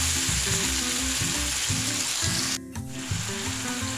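Spice paste for a pomfret fish curry sizzles and fries in a pan, a steady close crackle with soft rhythmic stirring scrapes and a brief pause partway through.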